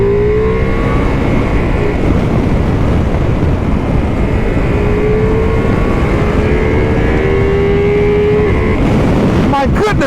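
A 2022 Ducati Multistrada V4 Pikes Peak motorcycle engine revs loud and close, pitch rising and falling in sustained sweeps before a sharp burst at the end.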